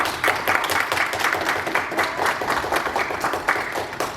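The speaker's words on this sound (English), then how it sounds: "if you guys can help me welcome him with a round of applause" A crowd at a Mexican folk dance presentation claps throughout, a dense, steady round of applause with no pauses.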